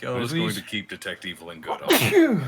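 A single short sneeze bursts out at the end, amid overlapping conversational talk from people gathered around a tabletop role-playing game.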